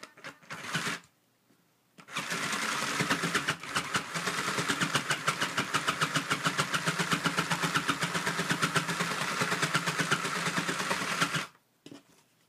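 A toy sewing machine that felts fabric together without thread runs in one long, rapid, buzzing stitching burst after a short start and stop, then halts abruptly, close and alone.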